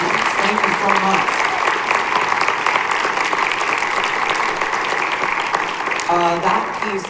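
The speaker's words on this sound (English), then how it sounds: "get one more round of applause for this ensemble of percussionists, soloists, senators, and musicians." An audience applauds after a percussion ensemble at a high school winter concert, with dense, sustained clapping filling the hall throughout and a voice briefly heard over it near the end.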